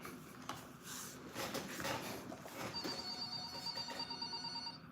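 An old-style telephone bell rings in bursts with a shrill metallic trill, fairly faint and alone, with no voices over it.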